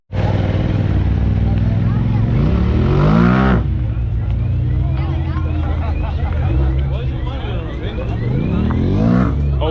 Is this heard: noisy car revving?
yes